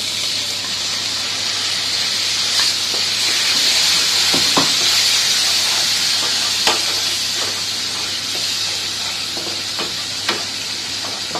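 Tomato paste hitting frying potatoes for a vegetarian aloo dum, a steady loud sizzle and hiss close up with occasional stirring clicks and scrapes.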